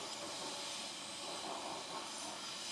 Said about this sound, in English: we have a train coming past